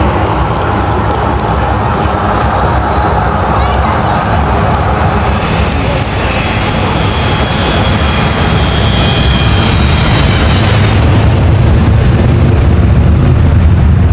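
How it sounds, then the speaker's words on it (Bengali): Roaring IndiGo airplane engines run up before takeoff at an airport, a loud continuous jet rumble with a rising whine that swells toward the end. "প্লেন গুলা ফ্লাই করার আগ মুহূর্তে যেই পরিমাণ সাউন্ড করে"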